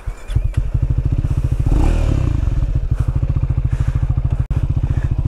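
A Triumph Scrambler 400X motorcycle engine runs while riding, a loud close rapid-firing thrum with steady pulsing beats and a brief swell of revs midway, plus some wind and clatter, with no talk.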